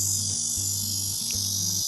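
A Chinese cicada drones loudly and steadily during a summer walk in Korea, one continuous shrill buzz with a low rumble pulsing underneath.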